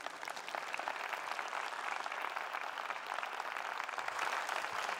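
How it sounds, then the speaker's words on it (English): A conference audience applauds after a talk with dense, steady clapping that holds at an even loudness from start to end. It sounds like a full room heard from the stage, and nobody speaks. "You can clap now, come on."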